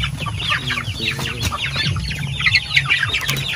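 Heritage chickens on a farm cluck and chatter in a busy, close flock, with repeated short clucks and calls layered over a steady low background hum.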